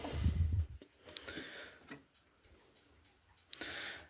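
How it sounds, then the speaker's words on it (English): A President 30-day wall clock ticks in a quiet room, a few sharp isolated ticks spaced irregularly, fairly close and clear, with no talking. "you did already hear what it sounds like"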